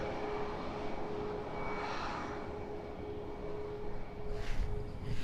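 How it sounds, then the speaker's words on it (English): easyJet Airbus A320-200 on short final into Edinburgh, a fairly quiet, steady jet rumble with a faint whine, growing slightly louder near the end, no talk. "Next arrival is on short finals now. EasyJet flight 3226."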